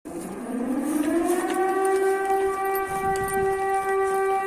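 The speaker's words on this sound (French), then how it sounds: "Encore une sirène." A loud air raid siren in Ukraine during the Russian invasion winds up from a low moan to a steady, piercing wail that holds on, heard from a distance outdoors.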